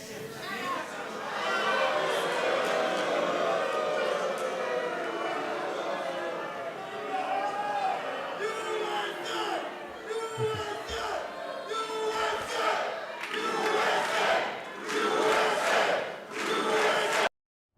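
Crowd members at a Turning Point USA conference at UTEP break into loud shouted outbursts, interrupting the border czar's remarks. Dense, overlapping voices and chatter fill the room almost continuously, with sharper yells rising near the end.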